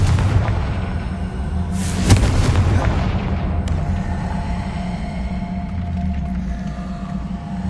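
A Confringo fire spell in the Hogwarts Legacy video game detonates with a loud booming blast and crackling burst, then a rumbling tail fading over several seconds amid game ambience.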